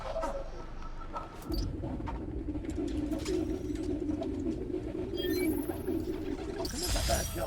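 Pigeons in the Spider-Man video game give a continuous low cooing over game ambience for several seconds, with a few higher electronic tones layered in near the end.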